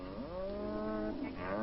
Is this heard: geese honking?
no